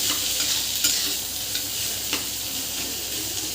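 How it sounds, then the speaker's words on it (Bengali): Boiled potato stirred and frying in a pan, a continuous close sizzle with occasional scrapes and light knocks of a spoon against the pan. "এই সিদ্ধ করা আলুটা দিয়ে দেবো আলুটা বেশ কিছুক্ষণ ধরে এইভাবে নেড়ে নেব"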